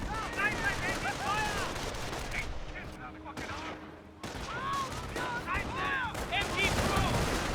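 MG42 machine gun fire in the World War II strategy game Company of Heroes, rapid bursts crackling loudly amid battlefield din, with a short lull midway before the shooting resumes.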